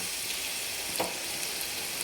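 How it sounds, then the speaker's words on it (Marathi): Crushed garlic sizzles steadily in hot oil for a dal tadka, a close, even frying hiss with no talk. "हे थोडंसं असा ठेचल्यासारखा केलेला आहे आणि छान खरपूस आपल्याला तडका द्यायचा आहे."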